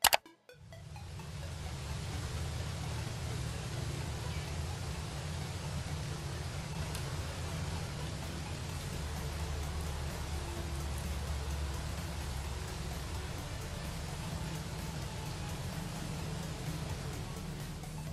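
Steady, even rainfall hissing continuously for the whole stretch after a brief click at the start, dense and uniform with no voices.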